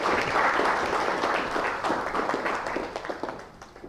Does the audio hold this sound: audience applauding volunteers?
yes